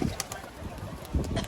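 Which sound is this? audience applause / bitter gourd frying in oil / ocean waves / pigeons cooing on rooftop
pigeons cooing on rooftop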